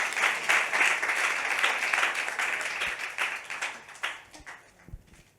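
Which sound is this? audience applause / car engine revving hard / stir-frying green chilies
audience applause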